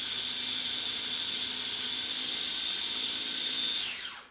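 Aging kitchen mixer blending carrot, zucchini and scallion fritter batter, a loud steady whirring drone that runs unbroken for about four seconds before winding down at the end.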